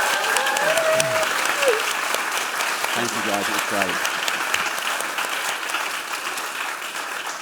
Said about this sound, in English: Can you give them a massive round of applause?